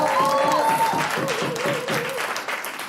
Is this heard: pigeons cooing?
no